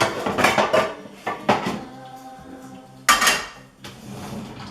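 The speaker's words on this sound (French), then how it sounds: "on prend une poêle. On va prendre celle-là, la grande." A large frying pan picked up and handled in a home kitchen while making pain perdu, with several sharp metallic clanks and rattles in quick bursts, a pause, then a loud clatter and softer knocks, no voices.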